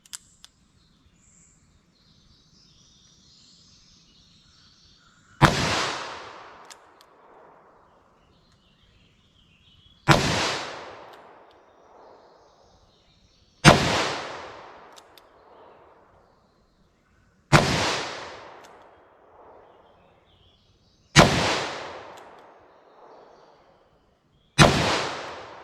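A revolver fired single action: six sharp, loud shots, each ringing out with a short decaying tail, spaced roughly four seconds apart with quiet between them.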